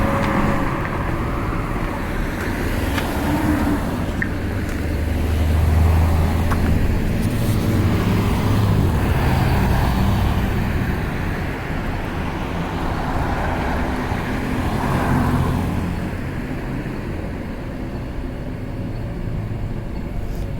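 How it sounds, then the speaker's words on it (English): Busy street intersection in a city, with continuous traffic noise from passing cars that swells and fades as vehicles go by, steady and moderately loud throughout, without speech. "Quite a busy intersection."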